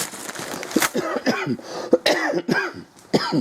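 A run of harsh, close coughs and throat clearing, repeated in quick bursts for several seconds.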